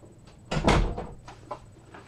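A door being opened for a cat indoors, with a short burst of creaking and knocking clatter followed by a few fainter bumps.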